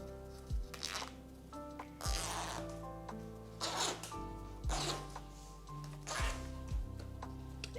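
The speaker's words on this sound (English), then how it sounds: "And now I can open the zipper" A zipper on a quilted fabric makeup pouch rasps open in several short pulls, fairly close, with a low sewing machine hum running steadily underneath.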